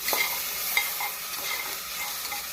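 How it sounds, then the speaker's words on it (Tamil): Chopped onion with salt and ginger-garlic paste sautéing in a pan for tomato rice, giving a soft, steady sizzle with faint stirring scrapes throughout and no talking. "வெங்காயம் 1 நிமிடம் நன்கு வதங்க வேண்டும்."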